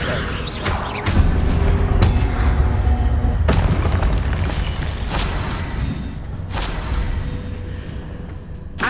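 Spell explosions from the video game Hogwarts Legacy boom and crackle over a loud continuous rumble of game sound, with several sharp impact bursts spread across the clip and no speech.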